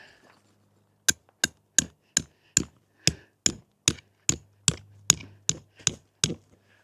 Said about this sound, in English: I need a hammer. The ground was just a little too tough there.